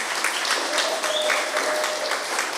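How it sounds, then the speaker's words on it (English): Applause from an audience at a school opening ceremony for Special Education Week, a steady, dense wash of clapping filling the whole stretch at even loudness, with a faint tonal whine running underneath. "Can you give her a round of applause?"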